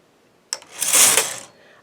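A knitting machine carriage sliding across a row of a sock during the heel increases, a single short rasping sweep of about a second with a sharp click at the start.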